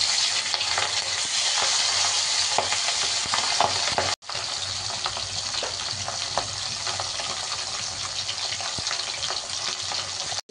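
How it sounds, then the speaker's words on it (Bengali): Steady, loud sizzling of fish frying in hot oil, a dense crackle that continues throughout with a brief break partway. "তেল দিয়ে দিলাম, এবার মাছটা আমি ভেজে নেবো আগে ভালো করে।"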